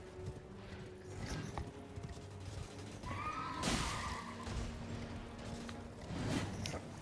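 Horse hooves galloping in Elden Ring: steady clip-clop footfalls at moderate distance, with a snorting whinny and swells of movement over a low ambient game background.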